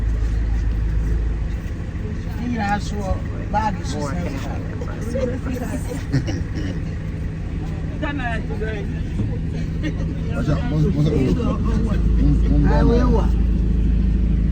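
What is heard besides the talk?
bus driving to a funeral site in Kumasi, Ghana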